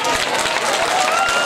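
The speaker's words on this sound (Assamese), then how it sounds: "এনেকৈ হাত চাপৰি বজালে হ'ব নেকি অকণ জোৰত বজাব লাগিব" An audience at a live Assamese comedy show claps in a steady, continuous patter of many hands, close and fairly loud, with voices talking over the applause.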